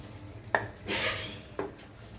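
Spoon scraping and clinking in a bowl while tuvar (pigeon peas) is mixed into spicy kachori filling: two sharp taps and a brief rough stirring scrape in between, close and fairly quiet.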